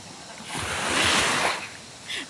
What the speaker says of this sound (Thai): ไม่รู้ว่าได้ยินเสียงไหมเนาะเพราะว่าเสียงคลื่นดังมาก